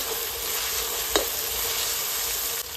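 Ginger garlic paste sizzling in a hot pan along with mustard seeds and finely chopped tomatoes, a steady close frying hiss with one brief stir-like tap partway through.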